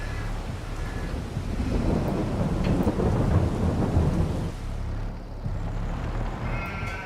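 Rain and thunder in the Farming Simulator 22 video game: a deep thunder rumble swells in the middle and then fades, over a continuous hiss of rainfall, with no voices.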